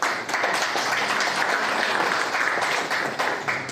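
An audience claps steadily at a teachers' honouring ceremony in India, dense sustained applause from a crowd filling the whole stretch at an even level.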